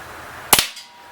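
A Webley Tempest pellet pistol fires a single sharp crack at close range, followed by a short fading tail and then quiet.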